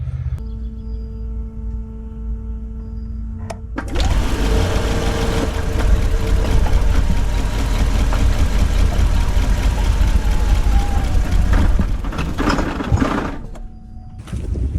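A 2011 GMC Yukon Denali hybrid engine idles roughly and lugs with steady mechanical churning and ticking, loud and close throughout with no talking.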